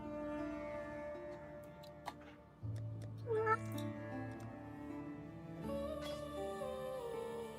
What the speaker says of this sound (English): You're just walking in circles and meowing.